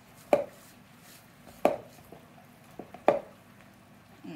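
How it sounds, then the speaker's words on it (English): A fork scrapes and pulls apart the flesh of cooked spaghetti squash, making three distinct soft, squishy strokes spaced a second or so apart, close up, with a couple of lighter taps between them and no talk. "Then you take your fork and you just shred it"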